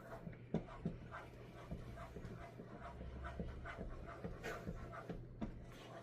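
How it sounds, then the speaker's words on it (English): A small dog wearing a coat pants quietly in a kitchen, a faint quick rhythmic breathing over low steady hum, with a few small clicks and knocks nearby. "I have to keep an eye on my little doggy right there"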